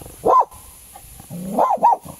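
Dogs barking in the distance outdoors, two or three yelping bursts spaced across a couple of seconds, with short gaps of quiet between them and no talk over them.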